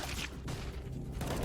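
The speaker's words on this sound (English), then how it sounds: "Why did he shoot into the ground?" A rapid, dense burst of video-game gunfire, shots fired into the ground, crackles loudly and continuously through the short moment with no pause between reports.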